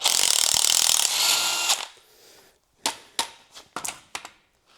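An impact wrench removes the nut from a BMW 120D rear suspension damper: a loud, dense rattling burst lasting under two seconds, followed by several sharp metallic clicks and clanks at close range.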